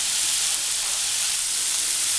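Lemon pieces for pickle frying in oil, a steady dense hiss of sizzling that holds evenly throughout without talk.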